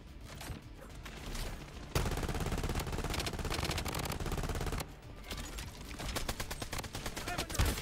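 Sustained automatic gunfire in the shooter game Bloodstrike, dense rapid bursts that run almost without pause, briefly dipping before resuming just as loud.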